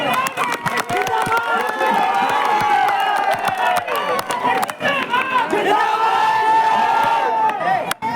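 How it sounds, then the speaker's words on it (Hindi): A crowd at a village political gathering claps and cheers. Dense rhythmic clapping runs for about eight seconds beneath loud shouting and whooping voices. "साथियों को ताली बजाकर"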